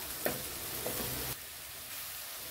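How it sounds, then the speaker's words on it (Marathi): Onion sautéing in a pan for a dry chicken dish: a steady close sizzle and frying hiss with brief stirring scrapes, continuous throughout. "हे बघा कांदा आहे ना खूप छान असा परतून झालाय"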